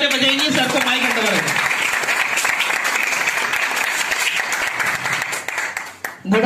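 Audience applause at a direct-selling business meeting in Lucknow: steady, dense clapping fills the room and holds for several seconds before tapering off near the end, with a voice briefly heard at the start.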